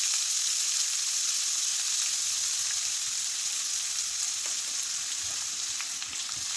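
A large, finely chopped onion frying in a pan for a potato fry: a loud, continuous hiss and crackle of hot oil that stays even throughout, with faint stirring clicks and no voices.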